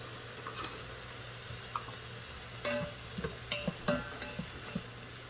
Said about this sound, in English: And let that cook with the onions.